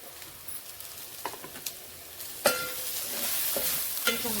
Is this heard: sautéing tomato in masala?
yes